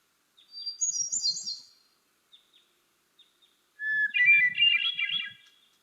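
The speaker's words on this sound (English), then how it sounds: "this is what a hermit thrush song sounds like" Two clear, flute-like hermit thrush phrases with a silvery, slightly metallic ring, separated by a pause with faint notes, heard alone in a quiet setting.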